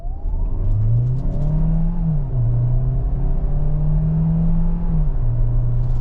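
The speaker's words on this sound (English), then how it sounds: "that's got plenty of power to move this big SUV down the road" A 2023 Kia Sorento SX Prestige hybrid AWD SUV accelerates with the hybrid assisting, its engine note loud and close, climbing in pitch, dropping at a gear change, then rising again through steady whirring drive.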